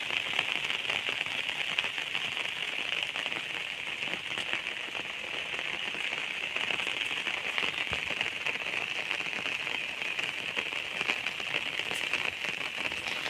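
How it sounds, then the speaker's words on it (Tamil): Steady, heavy afternoon rain pours down on a village throughout, a dense constant hiss of drops pattering on surfaces, with no voices. "ஆனால் ஒரு 3 மணிக்கு மேலே பார்த்தீங்கன்னா செம்ம மழை பாருங்கள்"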